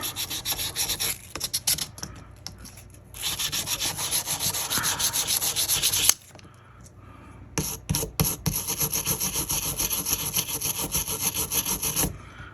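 Sandpaper lubricated with 3-in-1 oil rubs briskly back and forth across an old Scout pocket knife in close, rhythmic strokes, with short pauses where the scraping stops before resuming.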